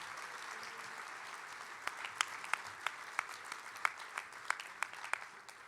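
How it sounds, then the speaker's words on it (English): Audience applause for the finalists at a sports awards event, steady crowd clapping with sharper individual claps standing out, heard from a moderate distance with no speech. "I think we can give them all one more big round of applause"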